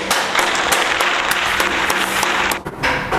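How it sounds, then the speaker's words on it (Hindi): Clapping from an audience welcoming a guest on a comedy interview set, a loud brisk burst of many hands with sharp individual claps standing out, dipping briefly near the end. "इनका तालियों से स्वागत करें।"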